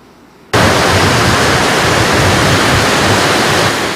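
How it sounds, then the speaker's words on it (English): Large ocean waves and surge crash at the Santa Barbara Harbor entrance, a sudden roaring wall of broadband surf noise that bursts in and stays loud and continuous. "spectacular waves and a large ocean surge"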